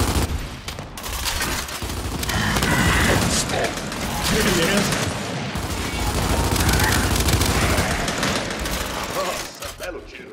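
Gunfire in Gears 5 crackles in loud, dense bursts with mechanical clatter, sustained firefights rising and falling under excited voices.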